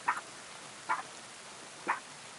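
A dog in the game Kingdom Come: Deliverance II gives three short, sharp barks spaced about a second apart, fairly close, over a quiet background with no talk.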